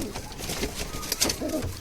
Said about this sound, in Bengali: কবুতরটা অনেক চালাক দেখছেন কত চেষ্টা করতেছে ধরার জন্য ধরতে পারতেছে না